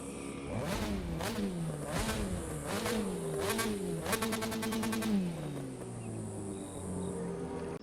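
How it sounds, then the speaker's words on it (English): Mazda RX-7 Turbo Sakura Edition rotary engine in The Crew 2, idling steadily with a lumpy, rhythmic burble and several sharp blips of revving, loud and close with no talking. "the first thing I actually noticed about this vehicle is going to be that rotary idling"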